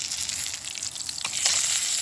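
Food sizzling in a small frying pan at a cold-weather stealth backpacking camp, a steady close hiss with a few crackling pops, no voices.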